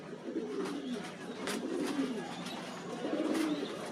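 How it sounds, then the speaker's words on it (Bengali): Blue bar pigeons coo nearby in soft, repeated throaty rolls, several overlapping calls over a few seconds, with faint fluttering and rustling in the background. "দেখুন বন্ধুরা পায়রা দুটো"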